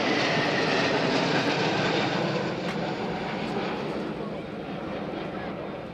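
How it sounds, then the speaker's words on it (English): A Yak-130 jet trainer and ground attack aircraft roars past at an air show, a loud broad jet rumble that slowly fades as it moves away. "then some real jet power, starting with the Yak-130 training and ground attack aircraft."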